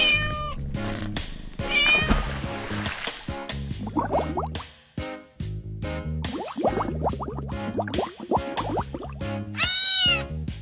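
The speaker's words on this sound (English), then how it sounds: "This is a cat." A cat meows repeatedly, close and loud, over a pulsing background of music with dripping, squishy accents.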